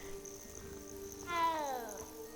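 A cat meows in the video game Hogwarts Legacy: one clear, rising-then-falling meow lasting under a second over a low, steady game ambience.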